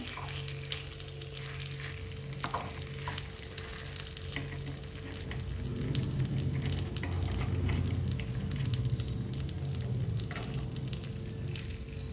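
Appe batter sizzling and frying steadily in an appe pan as the pieces are flipped with a spoon, a continuous close crackle with faint scraping, no talking.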